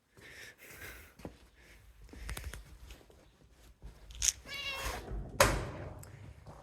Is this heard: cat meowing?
yes